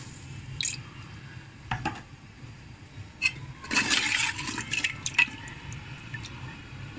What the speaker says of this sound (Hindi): मैं इसमें डालूंगी तकरीबन 2 गिलास पानी।